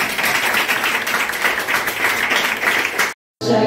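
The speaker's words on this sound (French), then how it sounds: "Applaudissez-vous s'il vous plaît." A live audience applauds at a concert, with dense, steady clapping close and loud for about three seconds before it cuts off abruptly.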